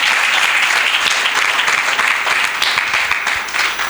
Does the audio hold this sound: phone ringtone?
no